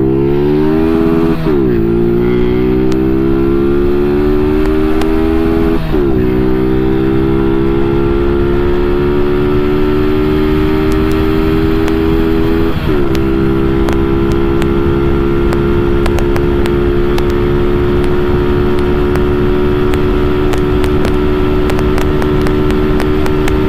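A Honda RS 125 carbureted motorcycle with a stock pipe and big elbow revs loud and close during a top-speed run. The engine note climbs steadily, drops briefly at each of several gear shifts, then keeps pulling higher.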